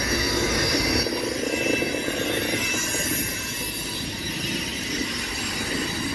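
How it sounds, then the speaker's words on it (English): A manifest freight train carrying airplane cars passing on the St. Joseph Sub in Nebraska, loud and close, with sustained high-pitched wheel squeal over a continuous rolling rumble and faint clickety-clack, no voices. "The front end of this train was the airplane train, and now it turned into a manifest"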